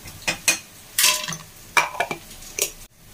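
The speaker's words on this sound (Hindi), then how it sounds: "और ऑयल के साथ ही सारी वेजिटेबल्स को भी मैं प्याज और टमाटर, प्याज और चिली के साथ ही सब्जियों को भी अच्छी तरीके से फ्राई कर लूंगी।" Vegetables frying in hot oil with onion and ginger garlic paste; a spoon clatters and scrapes against the pan in several close bursts over a faint sizzle.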